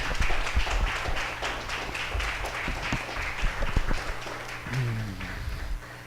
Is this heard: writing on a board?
no